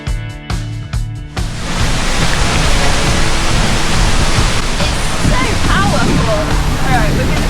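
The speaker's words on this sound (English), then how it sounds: "This waterfall," Powerful Icelandic waterfall roaring as a constant, loud broadband rush close to the microphone, with wind buffeting; a brief stretch of other sound and movement comes before the roar takes over.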